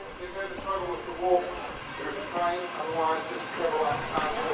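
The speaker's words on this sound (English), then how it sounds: "we'll catch a steam train, the Kaitangata, up to the sawmill" The Kaitangata, an 1896 steam locomotive weighing 22 tonnes, running on the Shantytown sawmill line, giving rhythmic hissing steam chuffs over a rumbling train, fairly close and steady, with a voice speaking over it.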